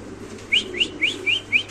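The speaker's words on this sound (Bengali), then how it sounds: "এখানে আছে একটা রেসার কবুতর, খুব সুন্দর" A racer pigeon giving five short, rising chirp-like calls in quick succession, close and clear over a faint background hum.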